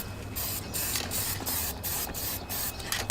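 Spray paint, Black Pearl colour, hissing onto a Nissan Skyline engine bay in repeated short bursts with brief gaps between passes, close and steady, no talking.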